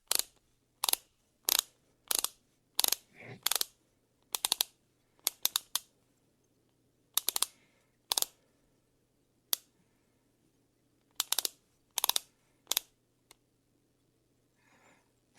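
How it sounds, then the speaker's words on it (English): A torque wrench set to 70 foot-pounds tightening the rear wheel lug nuts on a John Deere, giving sharp, loud, close clicks in irregular bursts separated by quiet gaps, with no talking. "John Deere says the rear lugs will be torqued to 70 foot-pounds. So we're going to go ahead and crank this up to 70"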